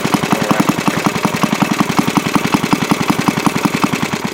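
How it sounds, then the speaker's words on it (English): Restored antique Briggs & Stratton small engine running loud and close, a steady rapid chugging beat at an even idle. "that's a good running engine"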